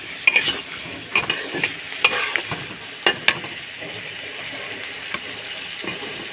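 Water poured into spice masala frying in a pan: a steady sizzle marked by sharp metallic scrapes and clatters of stirring in the first few seconds, then a calmer bubbling hiss.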